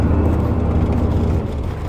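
A vehicle driving off-road through snow gives a loud, steady close engine drone with a constant low rumble that eases only slightly toward the end.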